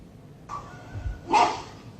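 A dog barks on body camera footage as a dog warden grabs it, a few short barks and a yelp spaced apart, faint to moderate over a low rumbling background.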